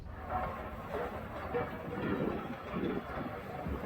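A CPKC freight train rolls along railroad tracks, a steady rumble with faint clattering and wind, heard from a moderate distance with no talk.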